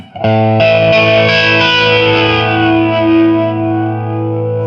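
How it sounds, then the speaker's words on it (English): A single distorted guitar chord through a Boss Katana Gen 3 amp rings out and sustains, with a swirling, jet-like flanger sweep moving through its tone as it slowly fades. "And that's a good sounding flanger."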